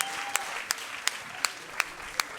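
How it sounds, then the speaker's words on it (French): Audience applause at an NRJ Antilles awards ceremony in 2025 during an honorary trophy presentation: a dense, steady wash of clapping with a sharp, evenly spaced rhythmic clap standing out about three times per second. "On peut l'applaudir."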